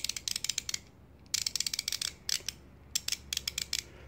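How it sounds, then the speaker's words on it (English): A Husky 72-tooth combination 1/4 and 3/8 ratchet clicks in quick, fine bursts of a dozen or so rapid ticks each, close and fairly quiet, with short pauses between strokes. "it came with this combination quarter 3/8 ratchet"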